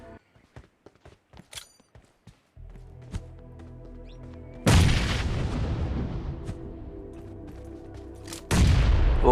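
Grenade blasts in PUBG Mobile: after a run of light clicks and taps, one loud explosion bursts and rumbles away, then a second heavy blast strikes a few seconds later.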